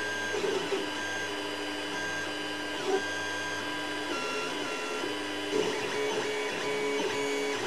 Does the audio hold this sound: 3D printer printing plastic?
yes